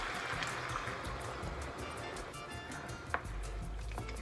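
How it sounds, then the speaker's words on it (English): Water pours into a cooking pot as a steady, faint, splashy trickle that runs on for several seconds, with no talking. "and then I'm gonna add in 2 cups of water."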